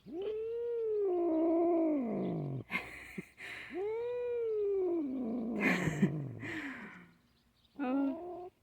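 Cats caterwaul in drawn-out, wavering yowls, close and fairly quiet, with short pauses and a few scuffling noises between the cries.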